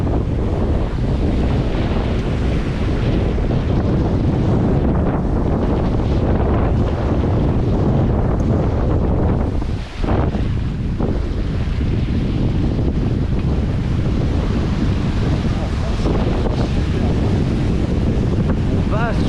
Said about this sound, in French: le vent monte quand même jusqu'à 22 nœuds là actuellement